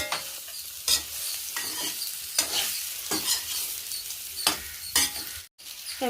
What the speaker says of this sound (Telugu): చిన్నులపాయ కారంతో సూపర్గా నేను కాకరకాయ ఫ్రై చేసేసాను